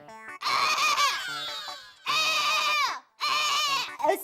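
A man imitates a crow whose caw comes out like a bleating goat, giving three long, loud, wavering bleat-like calls with short pauses between them, close up. No other sound competes with the voice.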